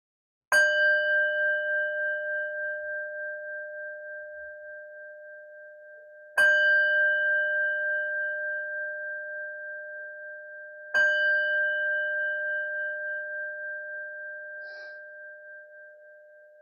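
A meditation bell rung three times to close a session, each strike a clear sustained ring that slowly decays, spaced several seconds apart in an otherwise quiet room.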